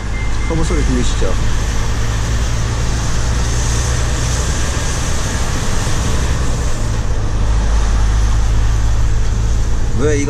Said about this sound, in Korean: 터보 소리 들리시죠?